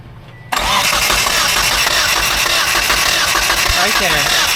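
A car engine cranks briefly and then catches, jumping straight to a loud, steady idle that keeps running close by. It is a car being checked for an oil leak.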